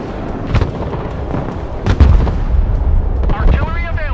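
In the video game Broken Arrow, artillery rounds fire with several heavy booms and blasts at irregular intervals, loud and close, amid a dense battle backdrop.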